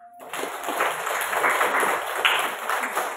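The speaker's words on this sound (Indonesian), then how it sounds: "kasih aplaus untuk semua" A school classroom claps together, a dense burst of applause that rises quickly and stays steady for about three seconds without any speech.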